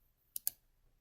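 Two crisp computer mouse clicks in quick succession, close and sharp, in an otherwise quiet room.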